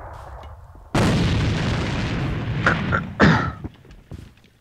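Grenade explosion in the online shooter AVA, one sudden loud blast that rolls into a sustained rumbling roar, followed by a few sharper gunfire pops, then fading out.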